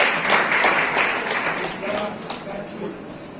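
A crowd applauds at a vocational school graduation ceremony as ribbons are passed along the line. The clapping is moderate and scattered, with a voice talking over it.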